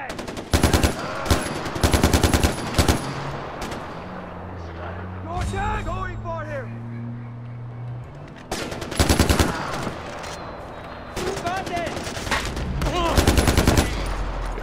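Bursts of rapid automatic gunfire from the video game Far Cry 4, loud and close, come in several volleys with a lull of engine-like drone and scattered game sounds between them.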